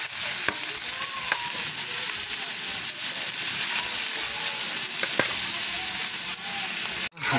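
Pork mask (maskara) for Bicol express fries in a pan to render out its fat, giving a loud, steady sizzle throughout with a brief clatter near the end.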